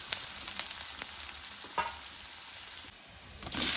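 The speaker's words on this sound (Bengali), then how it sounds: "পেঁয়াজগুলো আমি খুব ভালো করে লাল লাল করে ভেজে নেব।" Chopped onions frying in mustard oil, a close, continuous hiss and sizzle with scattered crackles and a few soft stirring knocks.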